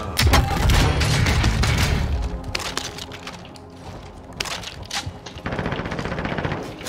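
Rapid automatic fire from an old AR rifle in a first-person shooter game, loud dense bursts of shots in the first two seconds, then scattered cracks and another sustained burst near the end, with no talking.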